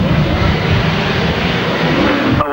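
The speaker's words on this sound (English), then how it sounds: "The 500cc solos are underway." 500cc solo motorcycles racing on a grasstrack, a loud, dense, continuous engine roar from the pack that cuts off abruptly near the end.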